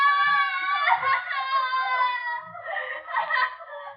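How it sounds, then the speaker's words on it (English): Drawn-out, wailing screams from people, two long high cries one after the other, loud and strained with quivering pitch, heard alone without any talk. "They scream because they remember things."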